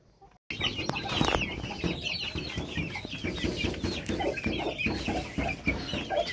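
A flock of chickens and young chicks clucking and peeping close by, busy overlapping calls continuing throughout after a brief quiet start.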